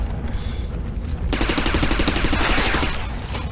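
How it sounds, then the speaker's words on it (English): Gunfire in the sci-fi shooter game Interstellar Marines breaks out suddenly after a quieter start and becomes a loud, sustained burst of rapid shots that runs for about two seconds. "Oh god, I'm getting shot!"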